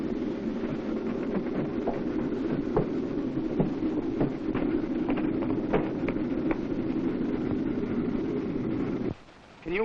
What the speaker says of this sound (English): I hear that train coming now.